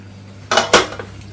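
A metal lid is lifted off a cooking pot of steamed kozhukatta, giving two quick, close metallic clanks a moment apart, followed by a faint tap, in an otherwise quiet kitchen.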